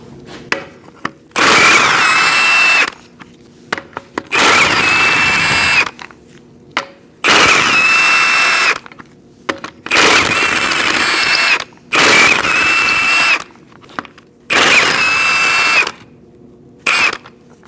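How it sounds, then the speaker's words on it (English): An impact wrench spins a 19mm socket to free the lug nuts of a Chevrolet Colorado wheel, loud close bursts of whirring and rattling repeated about six times with short pauses between. "Using a 19mm socket, we're going to remove our wheel."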